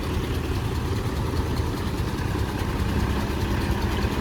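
A tractor engine idles steadily, a continuous low rumbling drone close by with no breaks and no voices.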